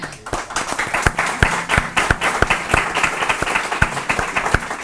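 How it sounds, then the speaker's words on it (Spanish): An audience at a pro-life women's colloquium claps loudly and nearby, a crisp, fast rattle of many hands with a few sharp individual claps standing out, continuing unbroken. "Y otro aplauso para ella también."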